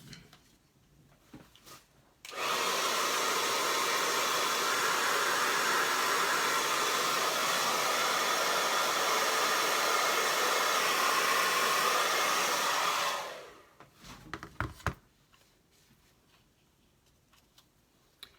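A hair dryer blows steadily for about eleven seconds to dry acrylic paint on a DIY bluebonnet and grass painting, a loud, continuous whoosh that starts abruptly and fades out at the end, with quiet handling sounds before and after.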